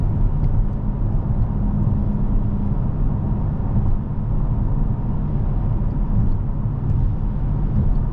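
A 2023 Dodge Challenger GT engine drones steadily while driving, a constant low rumble with road noise and no change in pitch throughout.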